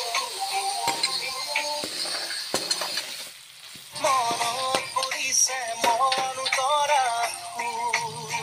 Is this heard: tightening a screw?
no